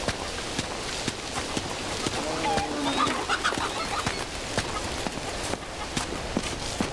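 Chickens clucking in a cold mountain area of the video game Uncharted 2, soft scattered clucks and bird calls over a steady ambient bed with intermittent clopping footsteps.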